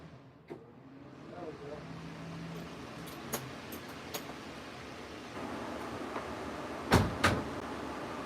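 An indoor room door is pushed shut near the end, giving two sharp, close thuds in quick succession after quieter handling noises and shuffling.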